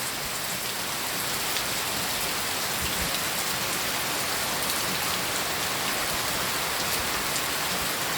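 Heavy rain pours down at midday in a dense, steady hiss of countless drops striking surfaces, loud and unchanging throughout with no voices.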